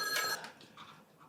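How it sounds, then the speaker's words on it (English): A telephone rings once in a short, bright burst that quickly fades under a faint room background. "The phone's ringing."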